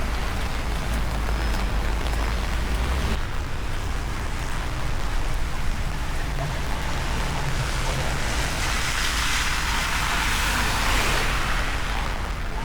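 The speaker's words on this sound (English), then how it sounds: "it's still raining quite heavy" Heavy rain falling in Benidorm during a thunderstorm, a dense and continuous hiss of downpour mixed with low rumbling, loud and unbroken throughout with no voices.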